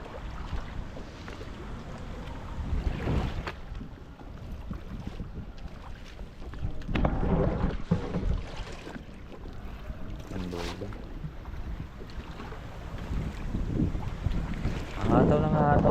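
A small outrigger-style boat pushes across open water, with wind buffeting the microphone and splashing, sloshing surges throughout, and bursts of louder rushing near the end.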